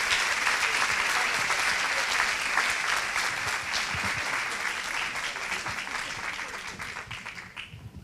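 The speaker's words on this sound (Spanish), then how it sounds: "un aplauso para las chicas" Conference attendees at an early-education congress clap for the teachers, a full, even wash of applause lasting several seconds that gradually thins and fades out.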